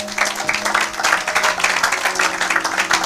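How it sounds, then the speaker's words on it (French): Church congregation applauding during a Congolese French-language service, steady dense clapping filling the space throughout with a low hum of voices underneath. "Acclamons pour la gloire de notre Seigneur."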